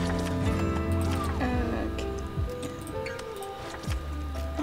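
A horse in the Alicia Online video game clip-clops in steady hoofbeats, with whinny-like tonal cries mixed in among game music tones, close and clear while a person talks over it.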